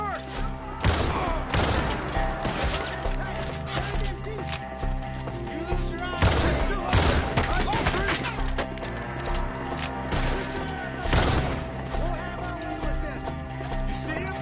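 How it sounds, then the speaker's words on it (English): Gunfire from a forest shootout in Red Dead Redemption II, with several loud, sharp shots spaced a few seconds apart over continuous game sound and shouted voices. "Shoot the ones up there first!"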